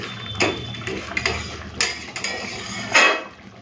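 Elephant yam and shrimp curry being tipped from a pan onto a plate, with a few metallic scrapes and clinks of a utensil against cookware, close and moderately loud, spaced irregularly.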